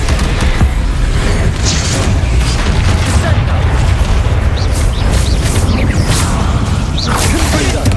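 Bombarda blasting spell going off in the video game Hogwarts Legacy, a continuous rumbling barrage of booms and bursts with whooshing effects, loud and dense throughout, with a voice and game sounds layered in.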